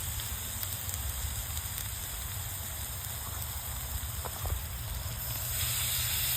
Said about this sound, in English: we're gonna quick sear it, face down, to give it a good sear real fast